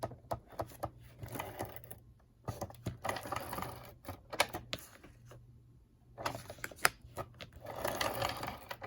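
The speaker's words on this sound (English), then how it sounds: "I'm going to use my ATG gun" ATG tape gun laying adhesive tape onto card for an envelope card, with bursts of quick mechanical clicking and ratcheting separated by short quiet gaps, close by and fairly soft.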